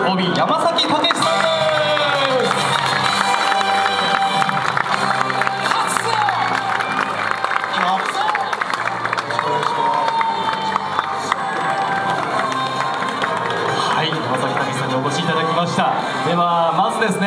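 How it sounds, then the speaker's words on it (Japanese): A crowd cheers and claps loudly to welcome former Chunichi Dragons player Takeshi Yamasaki at a Dragons baseball fan event. The roar runs unbroken for the whole stretch, thick with shouting voices and whoops. "大きな拍手でお迎えください"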